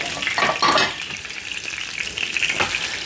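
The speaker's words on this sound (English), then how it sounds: "We want it to sizzle and not splatter." Peppered sirloin steak freshly laid in a very hot pan crackles and hisses loudly, a dense sizzle with bursts of spitting early on, heard up close with no voices.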